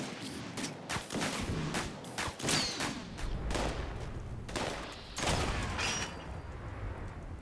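A weapon firing repeatedly in the video game Fallout 76, a series of sharp, irregularly spaced gunshots with mechanical clicks between them, moderately loud and heard without speech.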